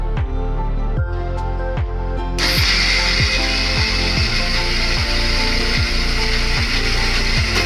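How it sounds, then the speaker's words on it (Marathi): A kitchen mixer grinder churns soaked rice and mixed dal with a little water into thick batter, running loud and steady with a rhythmic, regularly ticking mechanical whir that grows brighter partway through. "आता आपण मिक्सरमध्ये टाकून घेणार आहोत"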